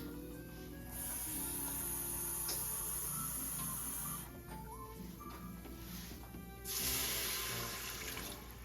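A cup of water pours steadily into an Instant Pot with a hissing, splashing rush in two bursts, close and clear, with no talking.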